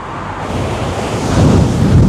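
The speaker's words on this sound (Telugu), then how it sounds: "అలలు చూసారా ఎంత ఉద్రేకతగా వస్తున్నాయో" Rough ocean waves surge and crash nearby on the Wellington, New Zealand shore, with heavy wind buffeting the microphone, the roar swelling louder toward the end.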